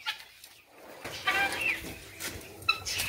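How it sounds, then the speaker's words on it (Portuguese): Young Indian-breed pullets clucking in a farm poultry pen, with several short, fairly close high-pitched calls and chirps over a low outdoor background. "Ali tem umas frangas índias."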